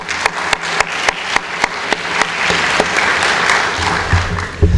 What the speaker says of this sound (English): We can clap for that too.